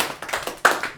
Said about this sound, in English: Yeah, clap, clap, clap.